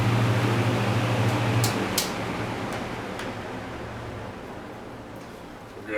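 A Manning Bowman 20-inch box fan, model 20542, winds down after being switched off, its steady broadband whoosh and low motor hum fading gradually, with a few light ticks as it slows.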